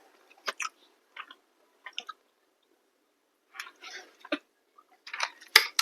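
Someone chews tangy black candy tablets close up, producing short, crisp crunching bursts in irregular clusters separated by silent pauses.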